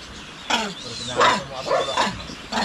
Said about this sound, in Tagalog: Nakita niyo yung mga aso na naghabulan?